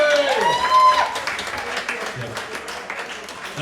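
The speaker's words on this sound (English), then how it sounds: "So round of applause for the Murphy's people" Concert audience applauding after a band's address in a pub venue, a dense wash of clapping that starts loud and gradually thins out over a few seconds, with a brief whistle-like tone near the start.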